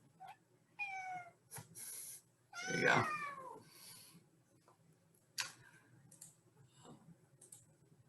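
A cat meows several times nearby, short plaintive calls with one longer louder one, and a person briefly speaks.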